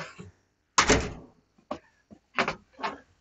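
A newly installed door in an Izu house renovation is swung open and shut, giving a few close, short thunks and latch clicks separated by quiet gaps.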